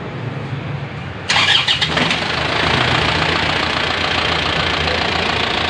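An Isuzu Crosswind diesel engine starts: a brief cranking burst, then the engine catches and settles into a steady, close, moderately loud diesel idle with a slight knocking clatter.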